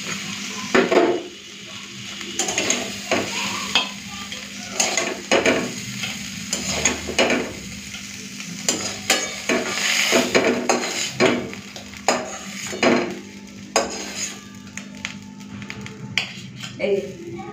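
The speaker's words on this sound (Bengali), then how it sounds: "এই যে সর্ষে ফোড়ন দিয়ে থর ভাজা রেডি।" Sliced banana stem frying in a pan with a mustard-seed tempering, heard as a soft sizzle broken by repeated scraping and clattering of a spatula stirring, with a few quiet voices in the background.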